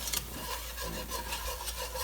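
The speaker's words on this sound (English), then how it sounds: "we're going to just mix in our flour" Flour being stirred into brown butter and onions in a pan for creamed spinach, a soft, close scraping and rubbing with a few sharper strokes, faint and steady.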